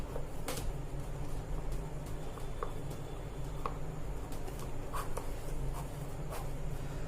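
Marker or chalk tapping and scratching on a board as entries for an accounting lesson are written out, with short irregular clicks and strokes over a steady room hum, no talking.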